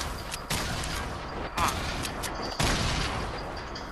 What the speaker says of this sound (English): Oh, they're throwing rockets.